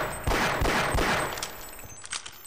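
A few sharp shotgun blasts in the video game Half-Life: Opposing Force, loud and close, followed by scattered fainter bangs, with no talking over them.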